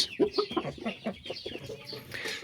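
A heavy rooster of about five to five and a half kilos clucks in a short, uneven series of close, moderately loud calls with a little background noise and no talking.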